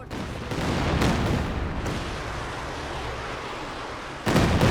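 Katyusha rocket artillery salvo from Company of Heroes 2, a sustained rumbling barrage of launches and blasts with dense low roar throughout and a sharper burst near the end.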